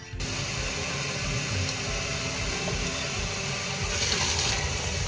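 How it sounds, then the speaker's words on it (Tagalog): Sago pearls rinsed under running tap water in a kitchen sink while making a Filipino coconut milk dessert, giving a steady, close, continuous splashing rush with no voices. "Hugasan lang natin sa running water."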